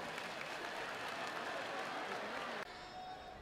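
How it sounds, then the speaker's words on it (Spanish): Applause and crowd cheering at the grand final of a drag competition show, a dense steady roar of clapping that cuts off abruptly near the end into quieter room tone. "un fuerte aplauso para los futuros esposos"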